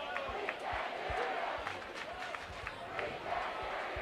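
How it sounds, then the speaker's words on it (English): Student section at a high school football game, Jefferson v. Apple Valley, makes a steady roar of crowd noise with scattered shouts and claps, fairly distant and continuous, with a voice talking over it. "And Jaguar student section making a little noise."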